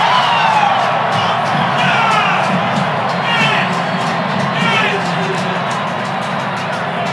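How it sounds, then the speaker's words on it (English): Stadium crowd at a Virginia Tech vs. Virginia college football game cheering after a touchdown, a loud continuous roar with bursts of shouting and whistles throughout, under commentator-style voices. "I don't know if you could hear the intense yeses and cheering"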